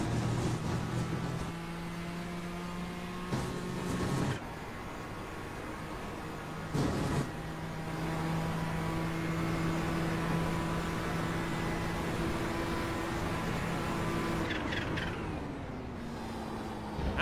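Onboard sound from a racing car, its engine droning steadily with tones that rise through the gears, broken by abrupt shift cuts and an aggressive downshift near the end, heard alone.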